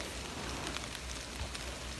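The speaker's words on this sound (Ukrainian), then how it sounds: "Дощ знову йде." Steady, soft hiss of rain falling, constant and even throughout, with faint scattered patters and no voices.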